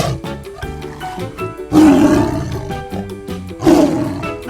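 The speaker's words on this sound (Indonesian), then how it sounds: "harimau," A tiger lets out two loud, full roars about two seconds apart over a steady tonal musical background.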